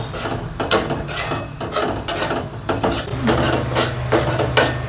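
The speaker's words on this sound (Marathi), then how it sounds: "आता थोडासा मीडियम गॅसची आच करून याला भाजूया आपण" Gram flour (besan) is roasted in a pan on a medium flame, with a spoon scraping and rubbing against the pan in a repeated, close, steady rhythm over a low hum.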